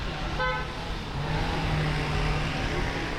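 Heavy traffic crawls along St Paul Street in Valletta, one short car-horn toot sounding early over a continuous low rumble of idling and moving engines.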